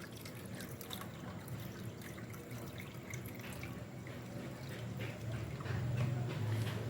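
Water is poured into a cup for a semolina breakfast recipe, a steady trickling and splashing that grows slightly louder toward the end.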